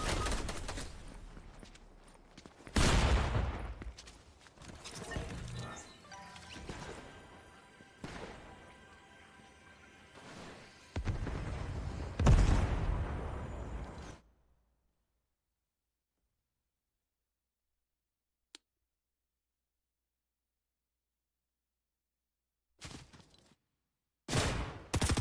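Gunfire in the video game Fortnite, loud bursts of shots in a few clusters with a long silent gap, then a final burst near the end.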